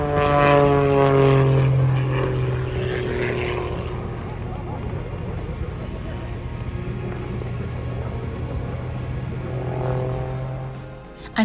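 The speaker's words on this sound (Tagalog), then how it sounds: "This aircraft performer is so impressive." A propeller airplane performs at the Abbotsford International Airshow, its steady engine drone loudest at first, then fading to a sustained hum with crowd noise and voices beneath.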